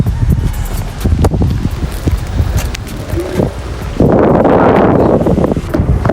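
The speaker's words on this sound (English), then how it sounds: "We're gonna head out in a very strong windstorm right now" Strong windstorm gusts buffet the microphone of a rider on an electric scooter, loud rumbling roars and rustling that swell into a heavier continuous blast partway through.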